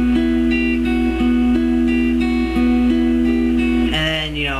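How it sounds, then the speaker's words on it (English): An electric guitar plays the piano intro to a song, a short repeating run of clear sustained notes over a steady low hum, close and fairly loud. "it starts out with a really cool piano part that sounds kind of like this."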